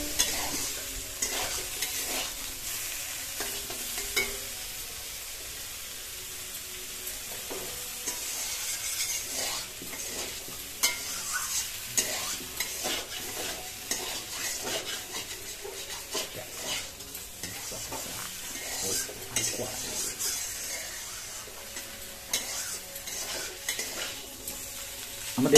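Cauliflower being stir-fried in a pan for a tilapia fish curry, a long soft sizzle under frequent scraping and clinking of a spatula against the pan, steady and close with no speech.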